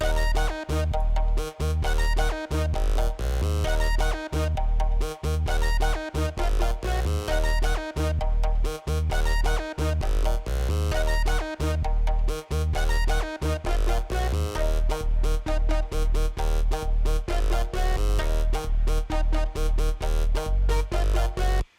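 A full Dr Mashup beat with all instrument parts playing together: steady punchy drums and deep bass under layered melodic parts, looping continuously at a moderate level with no talking.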